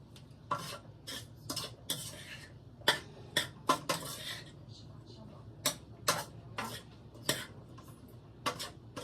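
Vegetables tossed and stirred in a non-stick skillet with a utensil, giving sharp, irregular scraping and clattering strokes over a faint sizzle, close by with a voice speaking between them.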